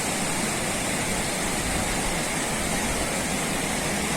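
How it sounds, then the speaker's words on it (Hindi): Big waterfall on the road toward Gilgit with vehicles stuck nearby, a loud, constant roar of crashing water filling the whole clip without pause. "look at the big waterfall"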